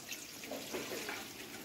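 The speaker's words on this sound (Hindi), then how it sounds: "उसके बाद पानी डालना आपने" Water is poured onto flour in the bowl of a dough kneading machine, a soft, steady splashing and trickling that stays faint and continuous throughout.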